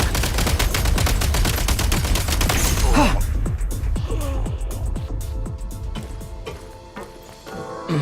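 Video-game gunfire in Genshin Impact: dense, loud automatic bursts for about three seconds, then scattered single shots and impacts trailing off, with no speech.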